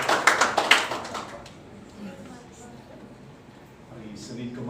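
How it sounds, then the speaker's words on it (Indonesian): Church congregation clapping hands for God during a Sunday morning service, a burst of sharp rhythmic claps in the opening second and a half that fades into quieter room sound with faint talk. "akan memberikan tepuk tangan bagi Tuhan saat Asir maju ke depan."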